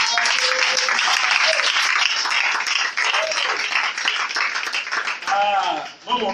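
A church congregation claps and cheers in praise, a dense, continuous wash of applause throughout, with voices calling out and singing above it.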